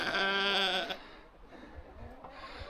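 On a farm, a lamb gives one long, wavering bleat up close, then quiet rustling and faint background noise follow.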